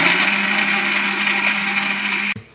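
A mixer grinder whirs steadily as it grinds beetroot curry masala with a little water, a loud continuous motor hum that cuts off abruptly near the end.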